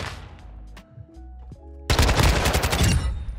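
Video game gunfire erupts suddenly into a loud, sustained burst of rapid automatic shots after a quieter stretch of faint game sounds, continuing to the end.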